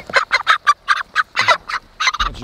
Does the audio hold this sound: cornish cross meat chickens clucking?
yes